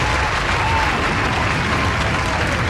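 Dense, steady applause from a crowd fills the whole stretch, loud and continuous without a break.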